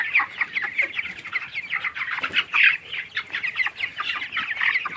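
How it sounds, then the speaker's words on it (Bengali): A dense chorus of broiler chickens, roosters and hens about 22 days old, clucking and chirping, many birds close together on a poultry farm, continuous and busy with no talking. "দেখুন এটা মোরগ আর এটা আছে মুরগি"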